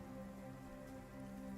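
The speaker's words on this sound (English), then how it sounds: "You can hear the muffled rain outside" Muffled rain falls steadily outside during a storm, a continuous soft wash with a low, even hum beneath it and no voices.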